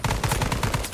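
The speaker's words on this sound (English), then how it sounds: "Give me some walking fire with that machine gun" Machine gun fire in ArmA 3 (S.O.G. Prairie Fire) rattles off as a rapid, evenly spaced burst of loud, close shots.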